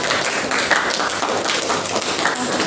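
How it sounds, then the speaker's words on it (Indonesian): Classroom applause for a student group, a dense burst of many hands clapping steadily and fairly close, continuing throughout without speech. "tepuk tangan untuk kelompok"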